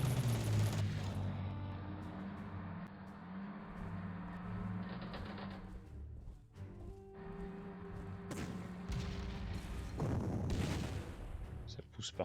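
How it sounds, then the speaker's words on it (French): Artillery fire in the Panzer Corps strategy game comes as a series of thumping booms and rumbling impacts scattered across the clip, with a louder crash near the end. "tir d'artillerie"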